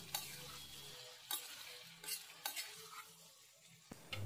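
Chicken liver and gizzard pepper fry crackles softly in a pan, a faint, low-level sizzle broken by a few sharp stirring clicks and scrapes, with no voices.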